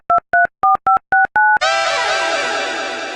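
Six DTMF keypad tones beep in a quick, even run as a telephone number is dialed, followed by a steady ringing tone. All of it is heard close and loud, with no talking.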